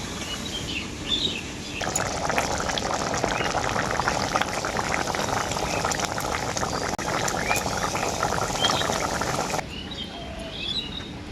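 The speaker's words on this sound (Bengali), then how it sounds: "ঝোলটা খুব ভালোভাবেই ফুটে গেছে জল দেওয়ার পর" Curry gravy for a potol-paneer dish, thinned with water, boils vigorously in a pan, a continuous bubbling and popping that grows louder and busier for most of the clip before settling back down.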